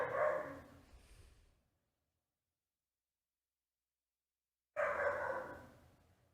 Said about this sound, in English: Shut up, dogs, please!